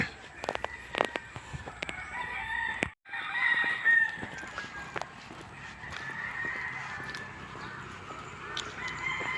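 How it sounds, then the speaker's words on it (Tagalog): Chickens and a rooster crow outdoors in repeated, fairly near calls, some clucking mixed in, over faint background activity and with no clear talking. "Ayun, mga manok mga idol."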